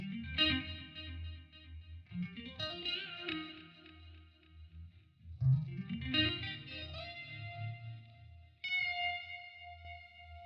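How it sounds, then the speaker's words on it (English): Free guitar solo run through a clean vibe, a phase shifter plus tremolo, with bright sustained notes and swirling wobble over a low backing, phrases starting at irregular intervals, loud and alone. "I used this clean vibe, which is just a phase shifter and tremolo"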